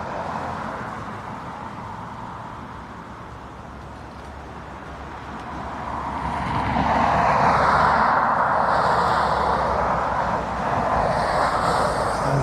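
A NetJets business jet departs Dublin Airport for Geneva on a windy morning, its broad engine roar swelling midway and holding steady and loud, with wind buffeting the microphone throughout.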